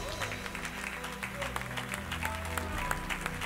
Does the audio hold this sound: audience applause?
yes